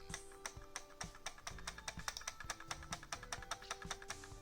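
Rapid clacky clicking from a worn second-generation Apple Mighty Mouse, close and crisp, around two dozen sharp clicks in an uneven quick rhythm with no talking.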